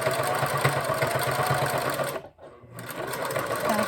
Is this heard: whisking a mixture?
no